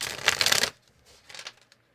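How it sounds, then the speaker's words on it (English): A deck of cards is riffled in a short burst, then a few softer shuffling rustles and a final tap, close and with no speech. "Cards don't want to shuffle."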